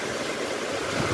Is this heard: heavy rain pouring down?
yes